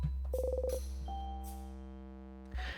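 A phone ringing in the video game In Stars and Time: a synthetic, tonal electronic ring with a short burst of pulsing beeps, then a longer steady tone, heard alone with no talk.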